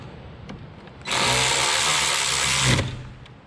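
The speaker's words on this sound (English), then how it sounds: "you just literally hook the battery up like so, and then you tighten the terminals down" A power tool whirs loud and close in one steady burst of about two seconds while battery terminals are tightened on a 2003 Ford Explorer, with quiet ambience before and after.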